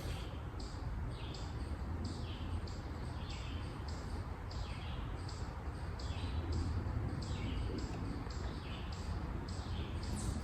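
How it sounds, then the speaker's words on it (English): Faint, rapid bird chirps repeat steadily over a constant rushing outdoor background noise. "Listen to the birds."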